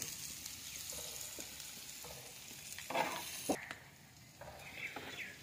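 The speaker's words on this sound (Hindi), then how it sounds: "ये अब अंडा इसके अंदर मम्मा डाल रही है। इनको मिक्स कर लो ना" Eggs sizzle quietly in a pan for an aloo egg dish while they are stirred and mixed, giving a faint steady fry with occasional scraping and tapping.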